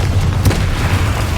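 A Confringo fire spell bursts in Hogwarts Legacy as a single loud, booming blast with a deep low-end rumble, standing alone in a dense, continuous game soundscape.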